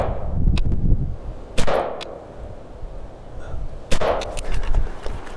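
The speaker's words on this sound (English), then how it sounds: "We're going to put three more rounds towards the target" Two sharp rifle shots ring out outdoors at a target on a range, spaced a couple of seconds apart, each a loud crack followed by a short echoing tail over low background noise.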